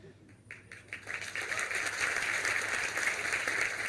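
Applause from an audience at a poetry recital builds from scattered claps into a dense, continuous patter that stays fairly loud to the end, without clear talk over it.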